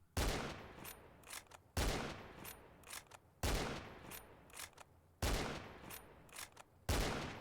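A Warn M40A5 bolt-action rifle fires in a shooting video game, five loud sharp shots spaced about every 1.7 seconds, each followed by a brief tail of mechanical clicks and echo.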